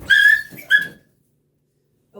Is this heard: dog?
yes